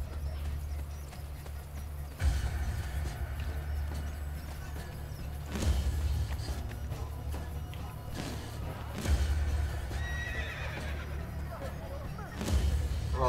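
Horse hooves clip-clop in the Assassin's Creed Brotherhood video game, rhythmic steady galloping with a few louder thumping beats, a whinny and game ambience, while a voice speaks briefly.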